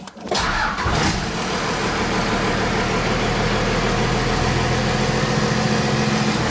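An engine turns over and catches, then settles into a steady, loud running drone heard up close, on a test drive after a transfer case repair.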